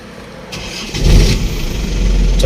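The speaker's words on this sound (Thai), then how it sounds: "ฟังเสียงเครื่องยนต์กันหน่อยนะครับว่าเป็นยังไง" An Isuzu TFR 2.5 diesel pickup engine cranks and fires up, settling into a loud, rough idle close by.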